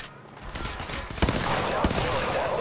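Rapid automatic gunfire in the mobile battle royale game Apex Legends Mobile, dense bursts with a couple of sharper loud shots, steady and close throughout with no clear talk.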